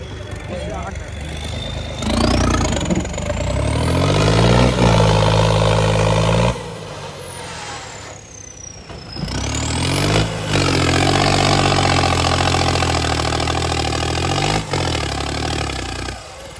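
A Sonalika RX tractor hauling a loaded trolley labours loudly up a slope, its engine droning and surging as the wheels slip, with revving swells throughout and people talking over the steady close-up noise.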